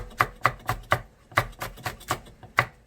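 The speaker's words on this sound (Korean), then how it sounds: "청양고추도 너스에 어, 다집니다" A knife mincing Cheongyang chili peppers on a cutting board in quick, rhythmic chops, about a dozen close, crisp thuds with a brief pause in the middle.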